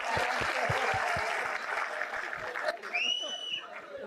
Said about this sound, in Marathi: तिच्यासाठी एकदा जोरदार टाळ्या होतं.